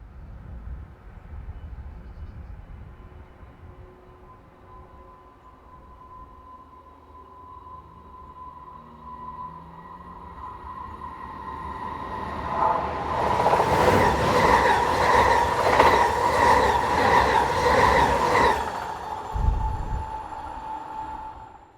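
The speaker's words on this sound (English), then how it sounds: "this Class 411 ICE approaches from the south with a service for Dresden" A Class 411 ICE high-speed train on a Dresden service approaches from the south, a faint distant rumble growing into a loud roar as it passes close by, then fading away.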